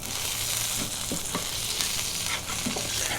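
A beef patty sizzles on a flat top griddle with a dense, steady crackle throughout, close and alone, with a few soft scraping touches mixed in.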